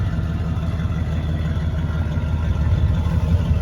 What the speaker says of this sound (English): I normally say gotta love the sound of a small block